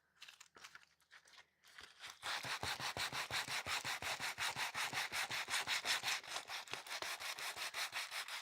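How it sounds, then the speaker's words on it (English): An acrylic-painted surface being sanded by hand, a few scattered scuffs at first and then a steady rhythm of loud, close, raspy back-and-forth strokes that repeats without break. "So we're just going to sand this down."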